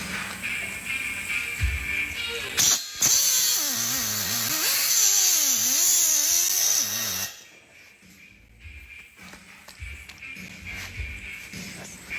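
Cutoff wheel on a power tool slicing through a metal bar at a 45-degree angle, a high whining grind with wavering pitch as pressure changes, loud for about four seconds before cutting off, with quieter handling noises around it.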